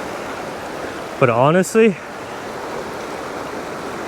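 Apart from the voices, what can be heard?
stream water flowing after rain near waterfall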